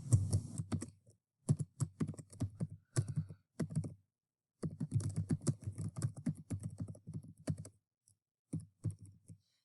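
Soft keyboard typing comes in short irregular runs of clicking keystrokes with gaps between them, close and quiet.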